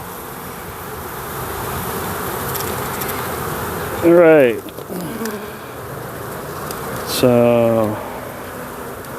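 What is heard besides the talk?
honeybees buzzing at an open beehive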